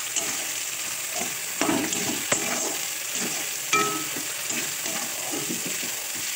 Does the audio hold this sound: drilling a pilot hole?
no